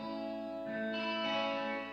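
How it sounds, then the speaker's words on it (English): Isolated reverb track from a music mix, a short roomy ambience with sustained tonal ringing that swells and fades softly over about two seconds, with no voices. "I've got the reverb track."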